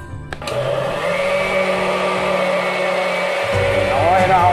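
An electric mixer whirring steadily as it beats bread pudding batter, loud and close, with its pitch dropping and the sound roughening near the end as the beaters bog down.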